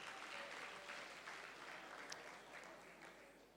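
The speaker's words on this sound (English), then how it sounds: "Can we clap the hands for that?" An audience applauds after a speech at the 2019 Buffalo City Metropolitan Municipality State of the City Address, a continuous, distant-sounding wash of many hands clapping at low volume that tapers slightly toward the end.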